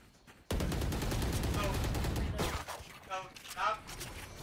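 Burst of rapid gunfire in the online tactical shooter Valorant, starting abruptly and sustained loud for about two seconds, then fading into scattered shots under a voice talking during a competitive match.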